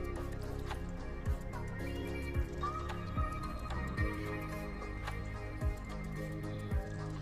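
Custard powder mixed in milk stirred in a pan over a medium gas flame, giving soft wet squelches and spoon taps at a regular rhythm, quiet and close.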